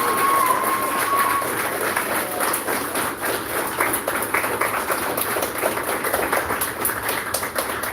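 Audience applause at a martial arts belt promotion ceremony, a steady dense wash of clapping with some cheering sustained throughout at close range.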